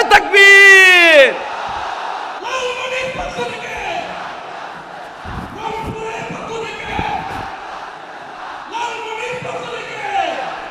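At an Islamic sermon in Lalmonirhat, a crowd shouts the Takbir chant: a loud, drawn-out shouted call opens it, followed by a rougher mass of voices answering and shouting in waves, with further talk between.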